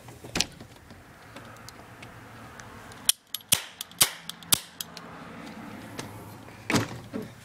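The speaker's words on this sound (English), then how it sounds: "That's what a cap gun should sound and look like." A toy cap gun fires a rapid string of sharp, snappy cracks, about seven shots in a burst plus a few isolated pops before and after, close and loud over quiet room noise.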